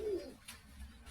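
Pigeon cooing from a Rampuri pigeon, a soft low purring coo near the start, quiet and close, then faint low murmuring with no talk.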